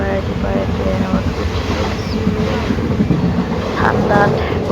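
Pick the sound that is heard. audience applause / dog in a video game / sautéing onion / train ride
train ride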